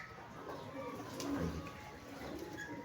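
Soft pigeon cooing rises and falls over a low outdoor background, with a brief spoken word near the start.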